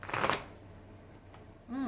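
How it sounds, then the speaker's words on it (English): Tarot cards shuffled in a short, loud riffling burst at the start, fading into quiet room tone before a voice comes in at the end. "When I don't get a smooth shuffle, that means there's something going on."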